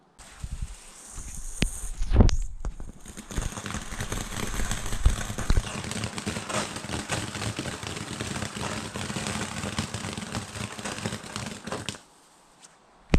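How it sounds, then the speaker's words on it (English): A small Luna fountain firework by Standard Fireworks at a Bonfire Night display: a brief ignition pop, then a steady crackling, hissing spray that runs for about nine seconds before cutting off abruptly into near silence. "Next up, we've got this very small fountain again by Standard Fireworks called Luna."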